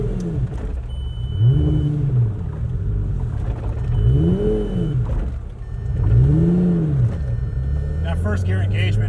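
A cheap Lamborghini's engine swells and falls in three close, rumbling surges as it pulls away in first gear, each rev rising and dropping in pitch over a steady low drone.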